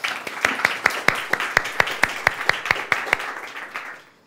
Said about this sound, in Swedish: En varm applåd till Malin